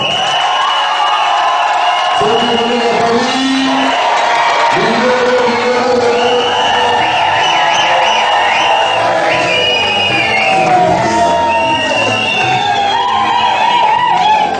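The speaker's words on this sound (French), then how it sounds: "sous vos applaudissements" Wedding guests at an official marriage ceremony cheer, whoop and applaud together, loud and close, in a continuous burst of crowd noise with voices calling out throughout.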